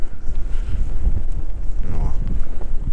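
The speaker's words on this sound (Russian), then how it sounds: "Ветер играть вообще не дает." Strong gusty wind buffeting the microphone during fishing, a loud, low rumbling roar with irregular surges and water sounds, no clear talking.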